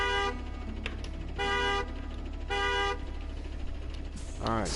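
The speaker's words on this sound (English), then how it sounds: "We're gonna do a horn honk here." A truck in the video game Snowrunner sounds its horn in three loud, sustained honks spaced about a second apart over a low engine rumble, followed by a short rising tone at the end.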